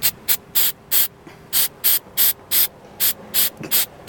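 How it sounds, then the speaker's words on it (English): An aerosol can of mass airflow sensor cleaner sprays onto a car's sensor wires in about eleven short, sharp hissing bursts, evenly paced and close, with no talking. "just give each of those tiny little wires a good spray"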